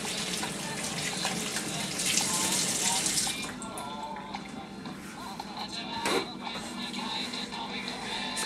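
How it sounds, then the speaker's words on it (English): Hands are washed under a running kitchen tap, a steady close splash and hiss of water that stays strong for about three seconds and then continues more softly with light clatter. "Wash my hands real quick."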